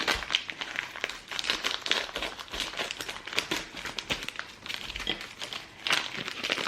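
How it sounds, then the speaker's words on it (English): Crinkling plastic packaging as a block of tempeh is pulled out of its packet, close, irregular rustles and crackles over several seconds. "So I'm just gonna take it out of the packet."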